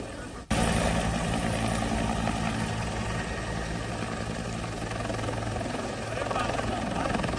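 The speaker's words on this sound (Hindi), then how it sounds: "उनका हेलीकॉप्टर अभी लैंड किया है" Helicopter landing at the airport in Ayodhya, a loud, steady rotor and engine roar that starts abruptly and holds close and constant throughout, with a low throbbing hum underneath.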